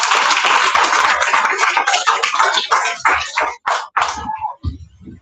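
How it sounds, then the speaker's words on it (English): Audience applause at a devotional gathering, a dense burst of clapping for about four seconds that thins into scattered claps and then fades out. "Give him a happy round of applause."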